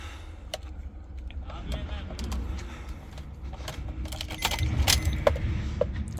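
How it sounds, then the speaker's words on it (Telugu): Two keys for a 2019 Maruti Ertiga VDi diesel jangle close by in repeated metallic rattles, with a person speaking over them and faint outdoor sounds behind. "బండికి టూ కీస్ కూడా ఉన్నాయి"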